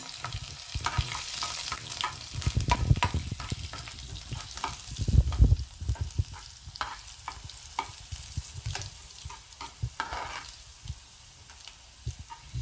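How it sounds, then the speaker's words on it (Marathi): Garlic fries in oil with asafoetida in a pan, a close, low sizzle broken by scraping stirs and clatter, densest early on, with no talking. "छान लालसर होऊन द्यायचा लसूण म्हणजे त्याची चव त्यात येते."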